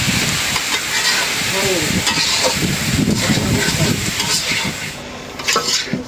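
Water lily (shapla) stems frying in a pan in a village kitchen, a steady loud sizzle and crackle with stirring scrapes running throughout, close and continuous.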